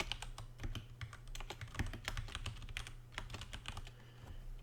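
Quick, uneven keystrokes tapped on a computer keyboard, quiet and close, over a low steady hum with no speech.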